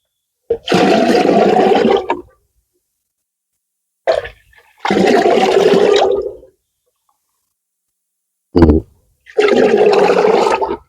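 Water is poured into a sprayer container while mixing herbicide for weed control in a maize crop. Three separate loud, close pours splash for about one to two seconds each, with short silences between them and no voices.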